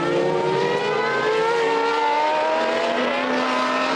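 Formula 1 race cars of the 1989 French Grand Prix screaming past in a pack, loud high-pitched engines layered and shifting pitch as the field streams by.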